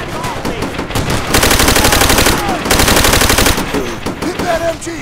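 Machine gun fire in Call of Duty: World at War, loud rapid sustained bursts of automatic gunfire in two long volleys with brief pauses, shouted voices and scattered shots around them.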